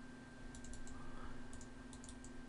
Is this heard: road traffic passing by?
no